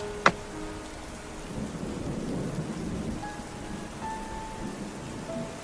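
Heavy rain pours steadily in the Sakura School Simulator game, opening with a sharp crack of thunder followed by a rumbling roll, with a few faint tonal beeps near the end.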